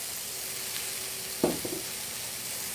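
Chopped tomato strips for chicken fajitas fry in a pan with a soft, steady sizzle, broken once by a brief louder clatter and stir partway through.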